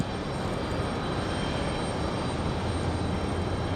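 United Boeing 737 MAX airliner arriving at Raleigh-Durham airport, heard as a steady, broad engine roar that holds at a constant level throughout, moderately distant.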